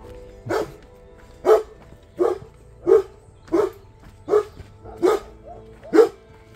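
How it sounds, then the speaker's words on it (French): A single dog barks repeatedly along a rural stretch of the Via Francigena walking route, eight evenly spaced woofs at moderate distance standing out clearly from quiet outdoor background. "Bon, il y a toujours un chien là."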